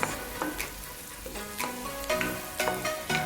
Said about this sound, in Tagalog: Antay lang natin siya mag-white ng konti yung sibuyas.